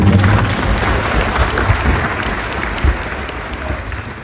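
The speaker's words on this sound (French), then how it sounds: "S'il vous plaît, mes chers amis, applaudissez Marie-Claude." A large audience applauds at a university graduation ceremony. The sustained, dense clapping fills the hall and is loud and continuous, easing slightly toward the end.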